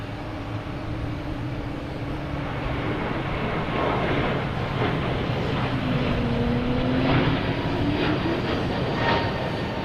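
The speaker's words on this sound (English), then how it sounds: "we have a Delta taking off, an A220, heading to Austin" A Delta Airbus A220 takes off at Boston Logan Airport, a steady loud engine roar building slightly and persisting throughout, with rising and falling engine tones and no talk.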